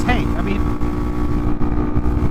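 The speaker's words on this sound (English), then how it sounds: "Now that I'm at highway speeds and we're revving along here" A KTM RC 390 motorcycle engine holds a steady drone at highway speed, with heavy wind buffeting throughout and a rider talking over it.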